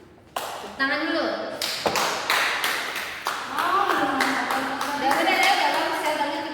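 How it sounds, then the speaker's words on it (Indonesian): A secondary-school class in Indonesia breaks into applause during a logarithm lesson, with sharp, rhythmic claps sounding close over a teacher talking. "Tepuk tangan dulu."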